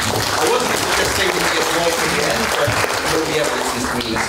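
A lecture audience applauds steadily and densely throughout, a loud continuous wash of many hands clapping with no pauses.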